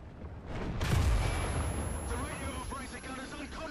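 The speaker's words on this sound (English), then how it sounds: "Okay, we just got shot by somebody." A tank is hit by enemy fire in War Thunder, a heavy impact boom swelling quickly and then rumbling on with crackling debris and engine noise, fairly close and loud.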